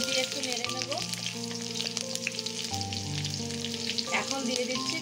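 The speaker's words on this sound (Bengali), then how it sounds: "দিচ্ছি একটা শুকনো লঙ্কা, দিলাম কাঁচা লঙ্কা কুচি, এগুলো দিয়ে একটু নেড়ে নেব" Dried chili and chopped green chilies fry in a pan and are stirred, making a continuous bright sizzle under sustained melodic background music.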